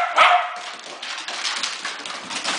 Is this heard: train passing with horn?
no